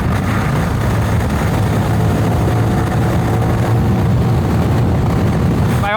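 A CFMOTO 450NK motorcycle engine revs hard on the highway near its redline, a loud, continuous drone blended with heavy wind rush throughout.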